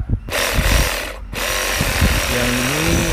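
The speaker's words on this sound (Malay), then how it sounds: "Kita potong dahan kecil dulu." A handheld electric saw cuts through a small tree branch, giving a loud, steady motor buzz that dips briefly near the start and again about a second in, then runs on for roughly three seconds.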